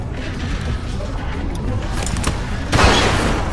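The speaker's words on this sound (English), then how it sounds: "Fire the fucking gun!" A gun goes off in The Walking Dead: 400 Days video game as one sudden, loud blast late in the moment. It cuts through a steady, low background rumble with faint mechanical clatter.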